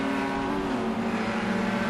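A race car at Road Atlanta during a Division 2 sprint race, engine note held loud and steady with a strong buzzing tone and tire hiss for about two seconds, close by as it sweeps past.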